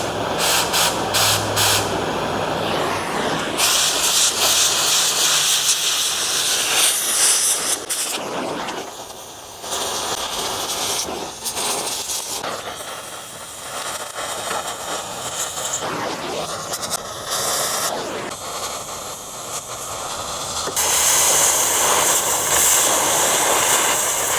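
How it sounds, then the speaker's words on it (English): A gas-powered impact wrench takes the tailboard bolts off a trailer during a floor replacement, giving loud, close, hissing mechanical bursts in several long runs broken by short pauses. "Now we'll get the gas wrench out,"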